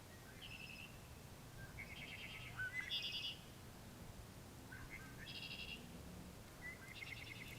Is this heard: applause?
no